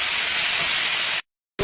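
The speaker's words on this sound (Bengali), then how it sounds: "কড়াইতে, তেলের সাথে চিকেনটাকে একটু ভাজা করবো" Chicken fries in oil in a wok with a loud, steady, broadband sizzle that breaks off abruptly for a moment, then resumes.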